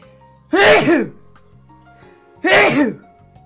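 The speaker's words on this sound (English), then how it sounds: "Guys, sneeze." Two sharp, close sneezes come about two seconds apart, each a loud voiced burst standing out against an otherwise quiet room with a faint hum.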